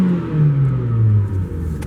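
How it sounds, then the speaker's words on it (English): A 2002 Ford Focus ZX5 engine, already warm, revs up and down in place, its low droning pitch rising and falling in a loud, close rumble. "I'm going to rev it in place a little bit."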